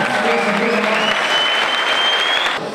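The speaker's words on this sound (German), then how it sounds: "beide Kämpfer verdienen einen ordentlichen Applaus" Loud, dense crowd applause at a boxing or combat sports fight venue, honouring both fighters after the bout, a continuous roar of clapping that drops slightly at the end while a thin tone runs through it.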